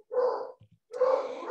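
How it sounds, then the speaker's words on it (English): A beagle barks indoors in two close, loud bursts separated by a short pause, with a faint low whimper or snuffle in between. "So I apologize about the dog barking."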